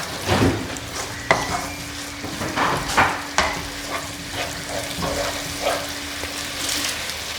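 Egg biryani gravy bubbles and sizzles in a pan, a steady close simmer broken by scraping stirs and occasional clinks of a spoon against the metal, with no voices.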